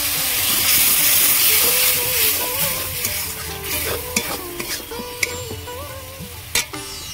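Ground chili, cumin, coriander and salt frying in a pan with a splash of water, giving a steady loud sizzle and hiss with a few sharp scraping stirs and clinks toward the end.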